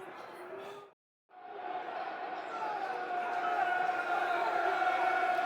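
Millwall football crowd at a home match against Coventry City, a dense sustained roar of voices and chanting that cuts out briefly near the start, then swells steadily louder and holds.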